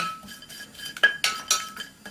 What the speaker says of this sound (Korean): 그냥 마른 냄비에 먼저 볶아줘요.